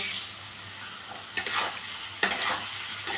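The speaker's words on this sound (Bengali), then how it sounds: "আমি মশলার সাথে আলুগুলোকে একটু কষিয়ে নিচ্ছি" Potatoes sautéed with spices in a hot pan, a soft steady sizzle broken by two sharp scraping stirs of a spatula against the pan, close and alone.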